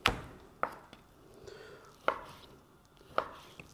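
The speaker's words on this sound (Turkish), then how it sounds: "Onun için ben bugün sizlerle jülen şeklinde keseceğim." A knife cuts turkey breast into julienne strips on a board, with sparse sharp chops landing at irregular intervals, close and clear.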